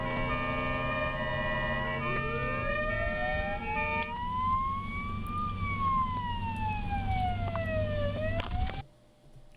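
An ambulance siren wails loud and close, its pitch sweeping slowly up and down over a steady traffic rumble, then cuts off sharply near the end.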